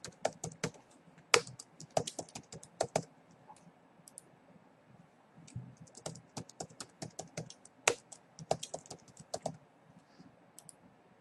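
Rapid bursts of computer keyboard typing as an email address is entered, clicks coming in clustered runs with short pauses between, close and fairly loud with no voices.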